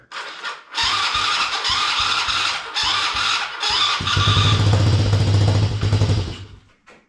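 A small gasoline engine in a Power Wheels ride-on build cranks on its starter in several short bursts, catches and runs roughly for a couple of seconds, loud and close, then dies away.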